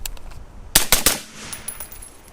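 An AR rifle fitted with a Brownells lightweight bolt carrier group fires a quick string of three or four sharp, loud shots, followed by a brief ringing tail.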